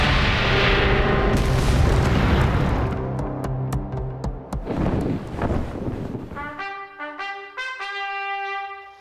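Rocket launcher and turret fire in the video game The Tomorrow Children: loud booming blasts and dense bursts of explosions at first, fading into a bright melodic electronic game jingle with chiming tones.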